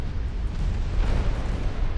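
Naval gunfire in the warship game Ultimate Admiral Dreadnoughts: a dense, continuous low rumble of distant cannon booms blending into one heavy roar, steady and loud with no voices.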